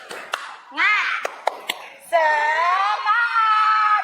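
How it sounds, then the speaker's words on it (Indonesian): Third grade class in an Indonesian classroom doing a rhythmic spirit clapping chant, sharp claps alternating with loud children's voices chanting together in unison. "kita tepuk semangat dulu ya. Tepuk semangat."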